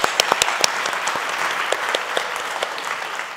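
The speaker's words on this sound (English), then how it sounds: "And I would like to give you guys all a round of applause." An evening audience at a real estate event breaks into sustained applause, a dense crackle of many hands with a few sharper, closer claps standing out, gradually easing in level toward the end.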